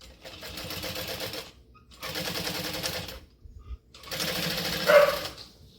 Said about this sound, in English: I'm going to switch to a 5 stitch length and a 1/8 of an inch seam allowance.